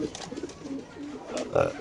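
Pigeons at a market stall coo softly in short low murmurs, with a louder coo near the end, partly under background chatter.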